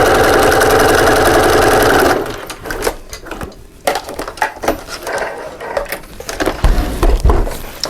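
A sewing machine top stitching a double cup holder, a loud fast continuous whir for about two seconds that then stops, followed by handling thumps and fabric rustles.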